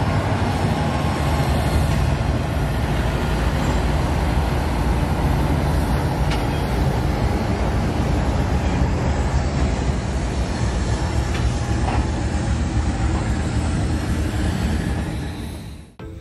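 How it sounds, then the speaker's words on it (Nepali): Sir Syed Express train pulling out of Karachi Cantt station, a steady loud rumble of rolling wagons and rail noise that holds constant throughout before cutting off at the end. "तकरीबन 9:10 पर ट्रेन कराची कैंट स्टेशन से रवाना हुई"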